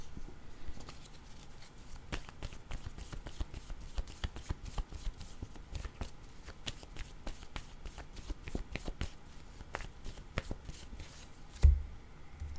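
A deck of image cards is shuffled close by in a steady run of papery riffles and flicks for about twelve seconds, with a firmer tap near the end and no talking.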